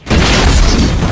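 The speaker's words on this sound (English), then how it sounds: "Mizo crashes into a fiery explosion" A fiery crash explosion in the Jak and Daxter video game, a single loud booming blast that hits suddenly and sustains a dense roar for about a second.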